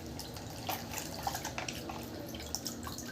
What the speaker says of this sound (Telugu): ఇలా వేసుకుంటే వాటర్ అంతా ఫిల్టర్ అయిపోతుంది.